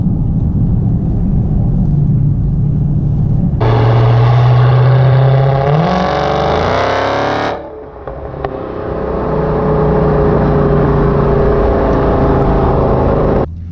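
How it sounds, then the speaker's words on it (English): A supercharged Dodge Charger Hellcat accelerating hard, its loud engine roar climbing in pitch with a high supercharger whine, a brief dip at a shift, then pulling strongly again. "that supercharger whine"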